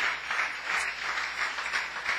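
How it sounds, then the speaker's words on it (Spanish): A church congregation applauds in a steady, moderately loud wash of clapping that swells and fades slightly over a couple of seconds. "puedes darle una ofrenda de aplauso."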